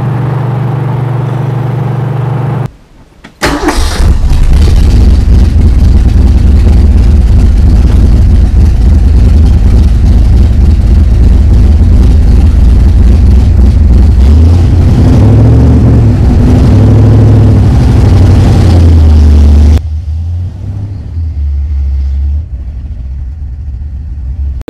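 1967 Shelby GT500 with a 428 V-8 and four-speed, starting after a brief silence and running with a loud, heavy, close rumble, revving up in surges before settling back to a lower idle.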